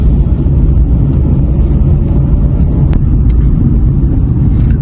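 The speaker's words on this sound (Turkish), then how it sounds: "Birazdan sizlere bir sıfır yüz testi yapacağım." A Hyundai i20 1.4 MPI hatchback accelerates hard during a 0-100 km/h run, its engine a loud, steady low rumble heard from inside the cabin, continuous with no pause or voices.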